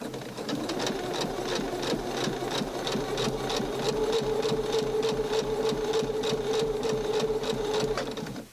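A sewing machine stitches doll clothes, its needle chattering in a fast, steady rhythm that runs continuously and fairly loud from start to finish, with no talking over it.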